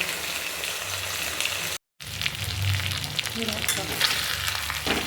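Onions fry in oil in a pan for chicken curry, giving a steady, close sizzle with light stirring scrapes, broken by one brief gap of silence.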